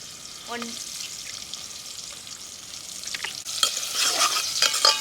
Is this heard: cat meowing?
no